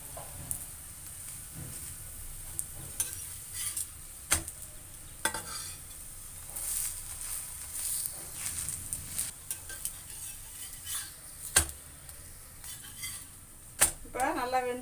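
Ragi adai with drumstick leaves cooks in oil on a pan and is flipped over, giving a steady soft sizzle broken by sharp, irregular spatula clicks and scrapes against the metal, close and alone.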